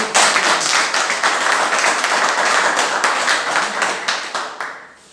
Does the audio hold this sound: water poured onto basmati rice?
no